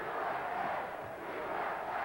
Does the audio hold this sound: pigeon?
no